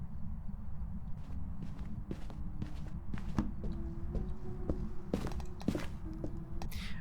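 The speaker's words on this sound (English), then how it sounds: "I heard its footsteps even without my flashlight flickering" Ghost footsteps during a hunt in Phasmophobia, a series of soft irregular thuds over a low steady hum, fairly quiet and unhurried.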